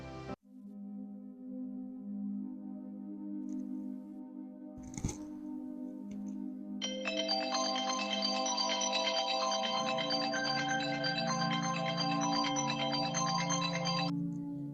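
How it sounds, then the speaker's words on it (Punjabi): A phone ringtone plays a continuous electronic melody, starting simply and then growing fuller and brighter, loud and close with no talking. "ਤੇਰੇ ਫੋਨ ਤੇ ਨਾ ਫੋਨ ਆਉਂਦਿਆ"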